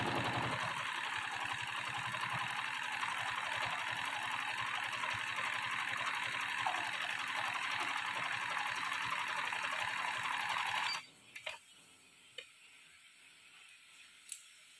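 Sewing machine stitching a round seam on a fabric cover for a bucket ottoman, running in a steady continuous whir for about eleven seconds, then stopping, leaving a few faint clicks and handling noises.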